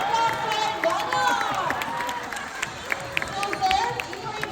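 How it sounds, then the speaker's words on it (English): Audience at an All Star Bird Show at Manila Ocean Park clapping and cheering, a dense patter of applause with scattered whoops under a presenter's amplified voice. "A round of applause for Buddy."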